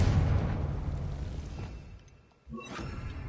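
A Confringo blasting spell in Hogwarts Legacy sets off a loud explosion whose roaring blast fades over two seconds, then drops nearly silent before a second sharp burst and crackling debris.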